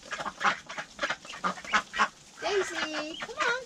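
Pet ducks, including a drake, call repeatedly at close range, a quick run of raspy quacks followed by longer nasal honking calls, with a person talking to them in between.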